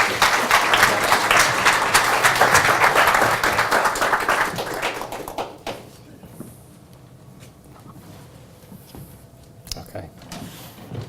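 Applause from a meetup audience welcoming two presenters to the stage, loud and sustained for about five seconds, then fading into quieter room noise with scattered handling sounds.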